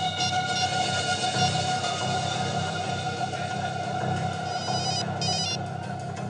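Telephone rings with a continuous, steady electronic tone over a dense, constant background hum, loud and close throughout.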